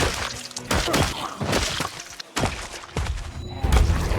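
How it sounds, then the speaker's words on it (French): A gunshot rings out in the zombie survival game Project Zomboid, landing among a dense run of loud thuds, cracks and crashing impacts that fill the short stretch with little pause. "Un coup de feu retentit."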